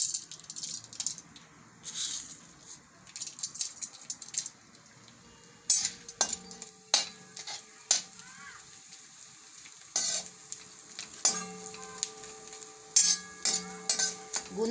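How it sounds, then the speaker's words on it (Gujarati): Edible gum frying in hot ghee in a pan for halwasan, a steady sizzle broken by repeated clinks and scrapes of a metal spoon stirring, close and moderately loud. "એમાં આપણે થોડો થોડો ગુંદ નાખીને તળવાનો છે"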